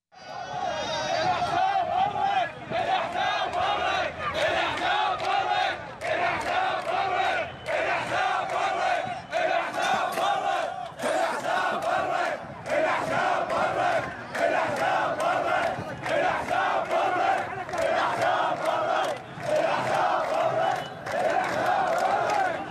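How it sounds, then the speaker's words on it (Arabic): Protesters in Najaf, Iraq, storming a party headquarters chant in unison, a loud crowd repeating rhythmic shouted phrases in regular bursts with brief gaps, sustained and close throughout. "خلونا نشوف المقطع اللي يبين كيف تم اقتحام مقر حزب الدعوة في النجف المقطع اسمه هتافات النجف"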